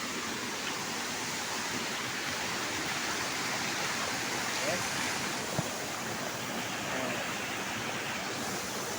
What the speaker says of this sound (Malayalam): നമ്മൾ കാത്തുനിന്ന വെള്ളച്ചാട്ടത്തിൻ്റെ അടുത്ത് എത്തിയിരിക്കുകയാണ്.